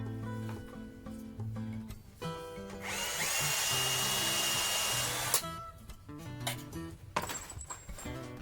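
A cordless battery drill bores into a copper name plaque, a sustained whining drill burst in the middle, framed by clinks and handling knocks of metal and tools, no talking.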